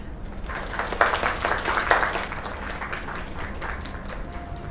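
A small crowd claps in the video game Lake, a moderate round of applause that swells near the start and then carries on steadily. A voice speaks faintly underneath.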